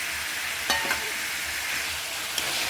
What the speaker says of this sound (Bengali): আলু কষানোর সাথে সাথে আমি এখন মাছগুলো কষিয়ে নেব